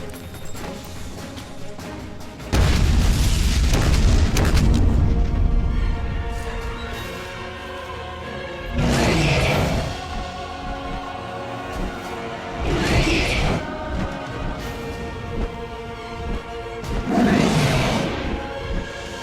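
Grenade explosions in a fantasy epic film sound as loud, booming blasts. A long roaring burst is followed by three shorter, sharp bangs spaced several seconds apart over a low background rumble.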